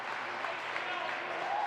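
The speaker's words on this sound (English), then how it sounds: "now the big round of applause" A crowd in a high school basketball gym applauds steadily in a dense, continuous wash of clapping for a senior player heading off the bench.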